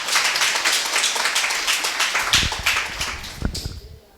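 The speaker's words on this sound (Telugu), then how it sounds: "చప్పట్లు కొట్టండి." A church congregation at Sunday worship claps hands together in a loud, dense burst of applause that thins into a few scattered, separate claps before stopping.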